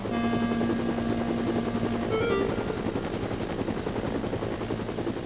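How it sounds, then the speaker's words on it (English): A helicopter hovering low over a harbor during a hurricane, its rotor chopping in a steady loud drone that fills the whole stretch, with a brief whine rising midway. "But the loudest of all was a helicopter."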